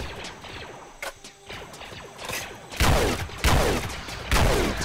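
Bursts of gunfire in a Roblox Clone Wars battle on Felucia, scattered shots building into loud, close volleys of rapid blasts and impacts aimed at the player.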